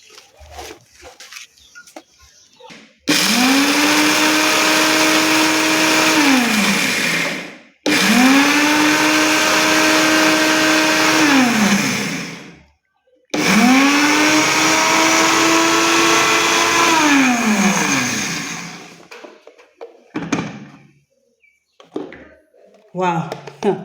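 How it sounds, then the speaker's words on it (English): An electric kitchen blender grinding papaya seeds runs loud and close in three long bursts, its whine climbing and settling before each cut-off, while people talk briefly in the quiet moments around the runs. "let us start by grinding this, our papaya seeds. Let's first take this to the machine."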